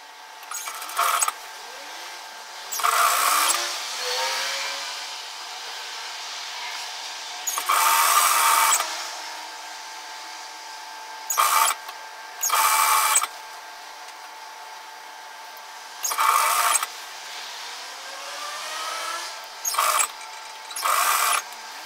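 A sewing machine runs in repeated short bursts while stitching an apron dress, each whirring run lasting one to two seconds and separated by quiet pauses, close up, with no talking.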